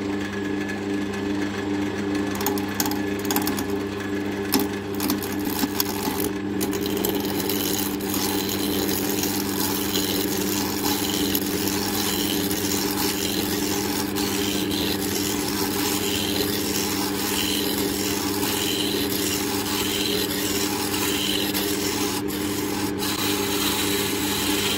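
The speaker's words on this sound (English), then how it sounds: "we've got the piece set on the lathe now. We're going to start turning." A wood lathe turns an oak hammer handle blank, giving a loud, continuous whirring drone with a steady motor hum and scraping tool contact throughout, without speech.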